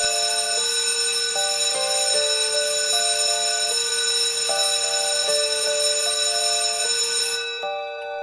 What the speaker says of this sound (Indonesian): bel sekolah tua berbunyi, memecah telinga